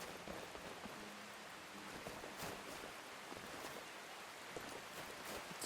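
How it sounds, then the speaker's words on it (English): Steady rain falls continuously in the video game Skyrim Special Edition, a dense hiss of drops with no talking, evenly loud throughout. "Oh, good, it's raining."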